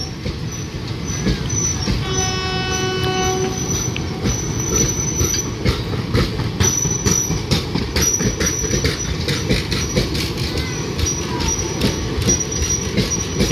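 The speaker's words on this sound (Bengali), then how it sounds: "Bug express Bandel railway junction ছেড়ে হাওড়া রেলওয়ে জাংশন অভিমুখে যাচ্ছে।" The Down Bagh Express runs from Bandel Junction toward Howrah, a loud close roar of passing coaches with rhythmic wheel clatter, metallic squeals and a brief high tonal whine, continuous throughout.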